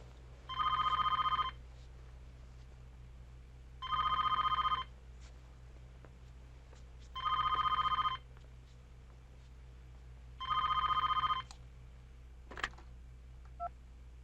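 A telephone rings unanswered: four evenly spaced electronic ring bursts, each about a second long, with a couple of faint clicks afterward over a steady low hum.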